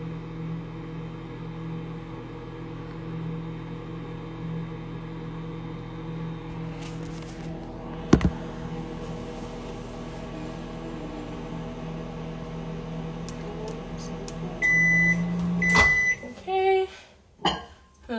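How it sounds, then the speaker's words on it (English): A low, steady microwave oven hum drones throughout with faint talk over it, a sharp click partway through, and a few electronic beeps near the end, melting chocolate. "It's in the microwave for another 30 seconds."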